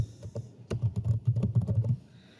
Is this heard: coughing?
no